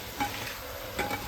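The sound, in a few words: onions and tomatoes frying in oil in a kadai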